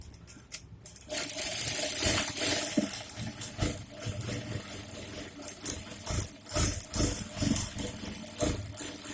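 A sewing machine runs close by, stitching along a quarter-inch fold on a straight blouse strip in uneven bursts of rapid mechanical rattling, starting after a brief pause.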